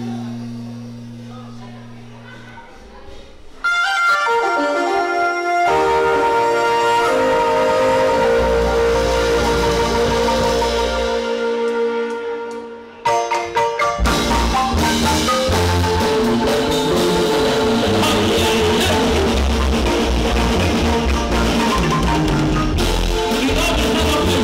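A marimba band from San Marcos Huista plays sones at an evening performance, with bright struck-bar melodies over a full ensemble. It opens softly, swells loud near four seconds, dips briefly around thirteen seconds, then continues loud and sustained.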